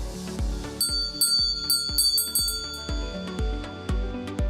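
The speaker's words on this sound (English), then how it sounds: "We'll start with a sample mono recording of a handbell." A handbell rings repeatedly in a dry mono recording, each strike giving a bright metallic clang with a shimmering decay, the hits coming in a quick, uneven rhythm that stays close and moderately loud with no voices.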